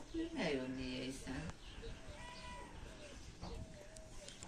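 Kittens, one yellow and one tabby, give a few faint, thin meows in an outdoor village setting, while people talk close by over them.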